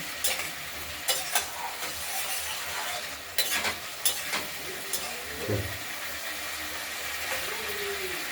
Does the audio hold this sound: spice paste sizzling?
yes